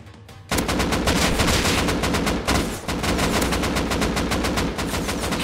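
Rapid automatic gunfire rattles through a battle in the survival game Rust. The shots come as loud, dense bursts that barely pause, filling the whole stretch after a brief quieter start. No one talks over them.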